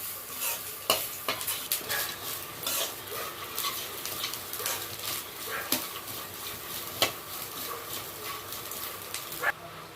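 Grated coconut roasting in a pan for kadappa, stirred with a utensil that scrapes and clinks against the metal in irregular strokes over a steady close dry sizzle.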